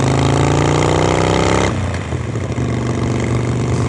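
A Harley Sportster with Vance & Hines Mini Grenades exhaust roars loud and close, the engine held high and then dropping into a deep, rumbling pull with a rough, throaty exhaust note and no talking.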